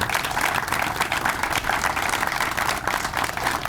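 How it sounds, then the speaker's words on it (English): A crowd applauds steadily, dense clapping sustained throughout without pause. "So just a quick round of applause for all of those that made this possible."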